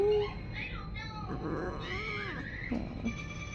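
An injured kitten meows plaintively in a home, its cries rising and falling amid close, overlapping human talk.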